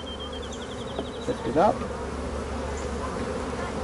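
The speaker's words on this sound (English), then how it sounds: "That's a lot of bees." Honey bees swarm and buzz steadily around an opened hive frame lifted out at a school outing, a dense close drone running throughout, with a brief voice speaking over it midway.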